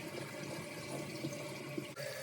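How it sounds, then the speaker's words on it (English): A toilet tank refilling after its water line is turned back on, following a tank-to-bowl bolt and gasket replacement: a steady, close rushing and trickling of water running evenly throughout with no talk. "The tank will fill back up."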